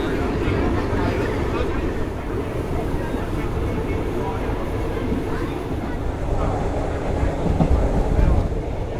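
A train on the Thailand Death Railway, the Siam–Burma line, slows as it begins climbing into the hills. A steady, close rumble of wheels and carriage clatter runs throughout with wind buffeting, and it grows slightly rougher near the end.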